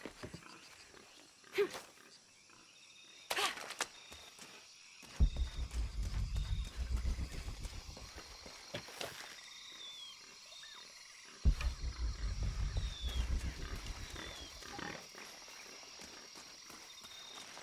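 Animal calls from capybaras in the jungle of Shadow of the Tomb Raider, short grunting squeals over low rumbling game ambience, with a few scattered thumps and faint distant calls.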